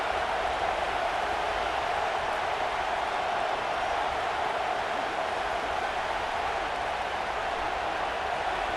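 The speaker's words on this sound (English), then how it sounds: "here comes the noise. This crowd is trying to inspire this defense to make a big red zone stop" Stadium crowd roaring in College Football 26 during a Boise State road game red zone stand, a steady, dense wash of noise that holds at an even loud level throughout with no breaks.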